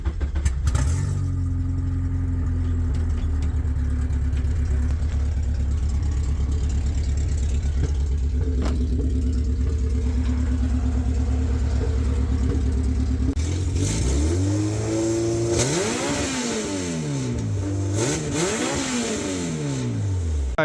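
A Honda K24A2 engine fitted with an RSX Type-S oil pump runs at a loud, steady idle, then revs up and down several times in quick sweeping bursts, close and with no voices.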